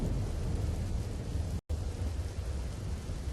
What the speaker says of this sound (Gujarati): ભારે પવનની સાથે પોરબંદરના ઘણા વિસ્તારોમાં વરસાદનું આગમન થયું છે